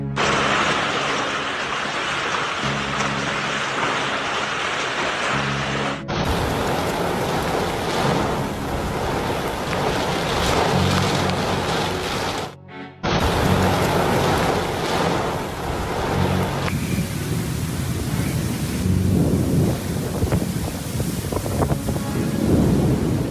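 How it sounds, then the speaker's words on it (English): Loud, dense downpour with deep rumbles of thunder rolling underneath, the rain roar shifting in intensity over the length of the recording. "Due to heavy rains, some parts of the city were flooded."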